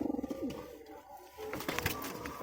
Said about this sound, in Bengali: চলো পায়রাগুলোকে আগে নিচে নাম করাই, খাওয়া দাওয়া করে।